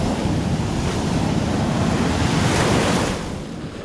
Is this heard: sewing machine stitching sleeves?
no